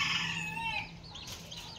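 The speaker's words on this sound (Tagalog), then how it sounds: "Kani mga manok guys magsunod-sunod dito ag." Chickens cluck in a farmyard, with a burst of sharp overlapping clucks and squawks at first that fade into softer scattered calls, fairly close by.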